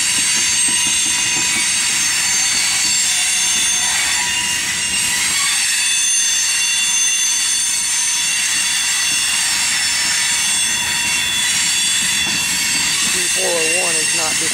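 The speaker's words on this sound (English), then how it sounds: "that wheel squeal makes it almost impossible to hear what's going on with the scanner" A long CSX freight train rolls through a rail terminal on a line, its wheels squealing in sustained high-pitched tones throughout over a steady rumble of moving cars, loud and close, with a rising screech near the end.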